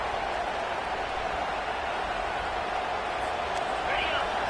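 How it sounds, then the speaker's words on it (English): Stadium crowd at a college football game, a steady dense roar of cheering and noise filling the whole stretch, loud and continuous without a break. "Listen to the crowd energy here in the early going."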